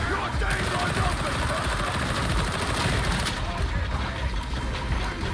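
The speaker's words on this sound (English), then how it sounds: "That's a repeating rifle, so that's why that shit hurts." Repeating rifle fire in the video game Warhammer 40000 Darktide, a dense, continuous barrage of shots and clatter filling the whole stretch without a break.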